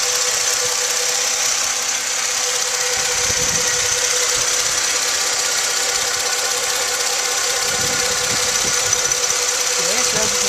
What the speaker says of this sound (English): I'm going to be quiet so you can just kind of hear how smoothly the engine runs